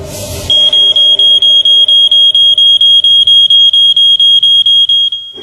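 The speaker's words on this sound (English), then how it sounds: "the illusion of one, created by a smoke machine and some sound effects" A staged hotel kitchen fire is signalled by a smoke alarm beeping loudly and rapidly, about twenty sharp, even pulses in a row, before it cuts off.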